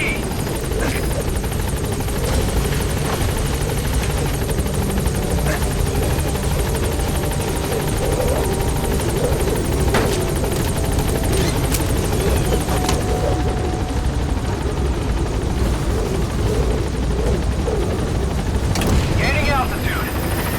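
Pequod, the transport helicopter in Metal Gear Solid V: The Phantom Pain, thrums loudly and steadily while gaining altitude, with a dense rotor and engine roar filling the whole stretch and radio chatter speaking over it.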